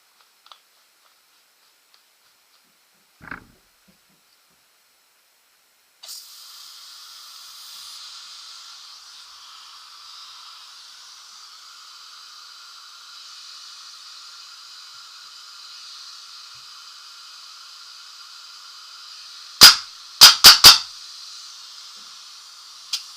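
A Proto Matrix Rail 2011 paintball marker with a leaking QEV gives off a steady, close air hiss that runs for many seconds. A quick cluster of sharp, loud shots cracks out near the end.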